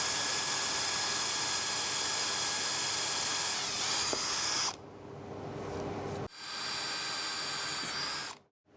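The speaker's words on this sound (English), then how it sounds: "You should aim to mark and drill bolt holes between these lugs." A drill bores bolt holes through a fibreglass mould flange, a loud, steady high-pitched whine running for several seconds, then stopping and restarting twice in shorter bursts before cutting out.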